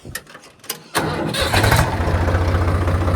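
An old Swaraj 855 tractor engine catches after a few short cranking bursts, then settles into a loud, steady diesel idle close by, running alone without talk.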